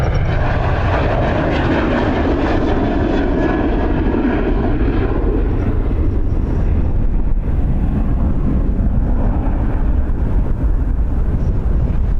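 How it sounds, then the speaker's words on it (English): Strong wind buffets a microphone outdoors at Dublin Airport, a loud, continuous low roaring rumble that fills the whole stretch without letup or voices. "Breeze is strong."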